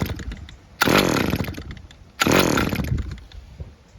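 A Stihl petrol trimmer engine is pulled over twice, each pull catching into a loud, buzzing two-stroke roar that sags and fades before the next attempt.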